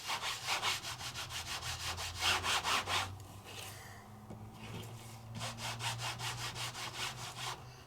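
Ink rubbed back and forth over a hardy plastic embossing folder for cardmaking, giving steady rhythmic scrubbing strokes, close and fairly loud, with a brief pause midway before the rubbing resumes.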